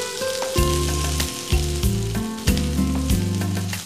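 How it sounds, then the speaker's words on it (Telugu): Chopped onion pieces frying in a pan with cumin, a steady close sizzle with scraping stirs and clinks of a utensil, under background music tones. "ఉల్లిపాయలు కూడా మరీ బ్రౌన్ అయ్యేంత వరకు వేయించక్కర్లేదు, పింక్ అయితే చాలు"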